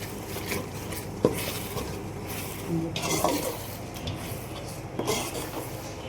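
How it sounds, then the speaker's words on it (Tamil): A spoon stirs biryani masala in a pot, giving irregular scraping and rubbing strokes with occasional clinks against the pot over a low, steady sizzle. "நெக்ஸ்ட்டு வந்து நம்ம நல்லா கலக்கி விட்டுட்டு நல்லா கலக்கணும்."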